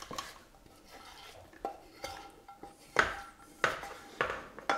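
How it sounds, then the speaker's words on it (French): Potato cake ingredients being stirred in a bowl, with a utensil scraping and knocking against the sides in irregular strokes, a few louder clinks standing out near the end. "On va commencer à mélanger ces ingrédients."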